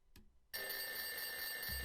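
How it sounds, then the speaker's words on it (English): Alarm bell ringing in the point-and-click video game Edna and Harvey: The Breakout, a loud continuous electronic ring that bursts in after a short quiet moment and keeps going steadily to the end. "Alarm!"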